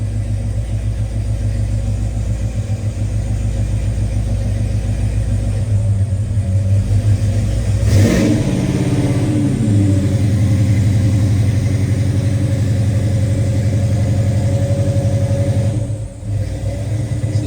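A 1969 Chevrolet Chevelle SS with a 396 V8 idles with a deep, loud, steady rumble, with a brief rev swelling in the middle before settling back to idle.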